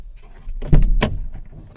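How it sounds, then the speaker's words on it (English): Door of a 2023 Mercedes Vito EV van opening, a close mechanical latch clunk followed by a sharp rattle and the thump of the door swinging open, loud against a quiet background. "as soon as I open the door"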